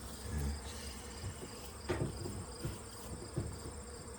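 Honey bees buzz around a large, crowded backyard hive during an inspection, a steady close insect hum with soft intermittent rustles and taps from handling the frames.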